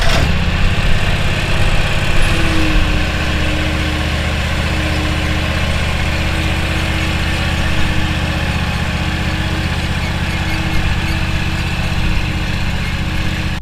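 Lawn mower fitted with a motorized grass catcher driving slowly, a loud steady engine drone with a constant low hum, close and uninterrupted throughout.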